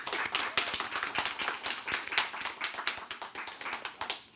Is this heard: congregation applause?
yes